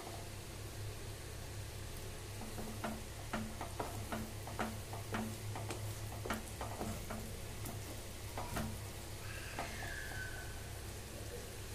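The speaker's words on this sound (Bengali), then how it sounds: "ভালো করে আমরা মিক্স করে নিচ্ছি মশলাটাতে" Spice masala for egg curry being stirred in a pan, a faint sizzle under a series of light, fairly regular scraping ticks from the spoon against the pan.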